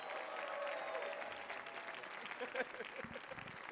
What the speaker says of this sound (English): Clap your hands right now for Reese Waters.